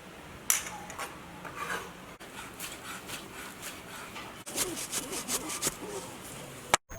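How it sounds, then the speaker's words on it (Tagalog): Knife slicing raw pork on a cutting board, a steady series of scraping, sawing strokes at close range with a few sharper knocks, no voices. "This is how to slice the pork."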